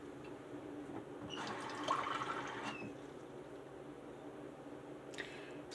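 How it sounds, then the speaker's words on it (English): Water poured into a Dash Deluxe egg cooker, a short, soft trickle lasting about a second and a half against quiet room hum, followed by a faint tap. "I'm going to put some water in here."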